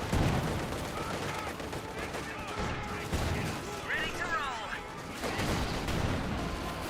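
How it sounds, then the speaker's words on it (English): Rounds fired into a Kubelwagen by T7 in Company of Heroes 2, a steady battlefield din of repeated gunfire and thudding impacts running throughout, with a commentator talking over it. "Looks like T7 is putting some rounds into the Kubelwagen."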